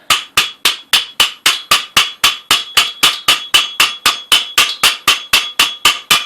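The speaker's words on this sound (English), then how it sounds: "And I can place that down onto that washer and then tap it all the way down until it seats." Steel tube tapped with a hammer to seat a motorcycle fork oil seal: a steady, rapid run of about twenty sharp metallic knocks, close and loud, with no talking.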